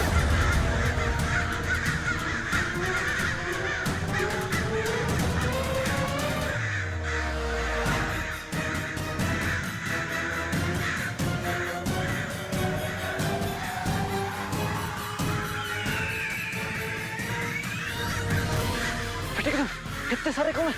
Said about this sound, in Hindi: कितने सारे कौवे, हमें यहाँ से भागना होगा।